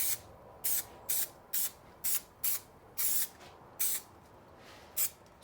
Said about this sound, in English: spray a bit of glue.